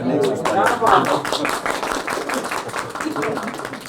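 A crowd at a political rally in Pakistan claps and applauds steadily throughout, dense and fairly loud, with voices mixed into the clapping.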